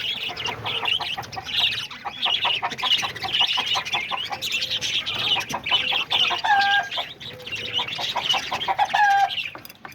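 Aviary birds, lovebirds, parakeets, cockatiels and diamond doves, chatter together in a busy, continuous mix of chirps, squawks and short calls, fairly close and lively, with no talking.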